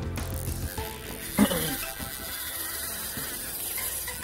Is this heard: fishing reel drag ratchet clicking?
yes